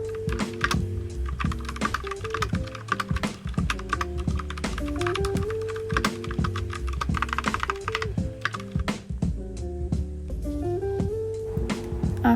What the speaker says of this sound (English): I'm gonna let you listen to the typing ASMR for a little while.